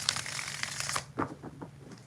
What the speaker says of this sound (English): 4 shuffles for Alexis.